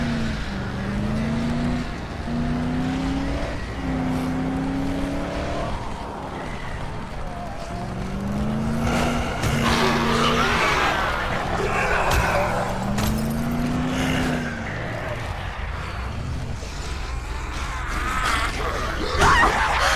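Car driving in the Dead Island video game: a loud engine revs through repeated rising pitch sweeps as it accelerates, with rough bursts of impacts and skidding noise in the middle.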